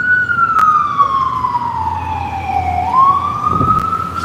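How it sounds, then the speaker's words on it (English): An ambulance siren passes close by on a street, its loud wail sliding down in pitch as it goes by, then rising again in another cycle. "Ambulance."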